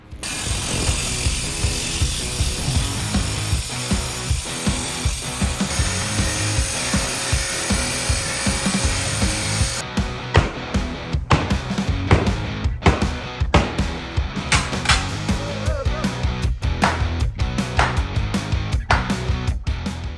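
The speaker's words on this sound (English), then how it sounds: "So I'm going to make a saw cut right here. Got this nice ruby blade in our grinder, variable speed, and make a cut." An angle grinder with a ruby blade at variable speed saws through a wall during a kitchen demolition, a loud, steady, close grinding roar that stops partway through and gives way to rough intermittent scraping and knocking.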